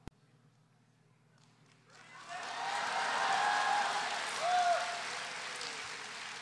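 A comedy-show audience bursts into applause after a brief quiet start, swelling into a dense, sustained clapping that holds at full strength, with voices faintly under it.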